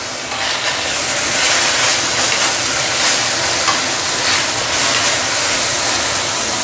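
Sweet potato leaves stir-fry in a hot wok with a loud, steady hiss and sizzle that runs unbroken for the whole stretch, and no one talks over it.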